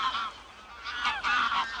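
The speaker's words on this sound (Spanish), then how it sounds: "estas aves inteligentes y longevas se trasladan cotidianamente a las dunas de Doñana" Flocks of geese heading for the Doñana dunes give repeated nasal honking calls that overlap in a steady chorus, fairly near and loud, with no talk.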